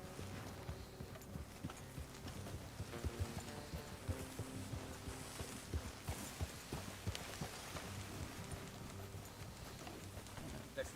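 Steady hoof clops of horses walking on soft ground in the video game Red Dead Redemption 2, fairly faint, with low voices talking now and then over ambient outdoor noise.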